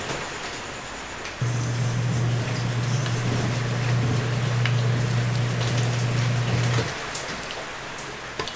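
Steady rain patters across the whole stretch, with a loud low hum switching on partway through and cutting out near the end.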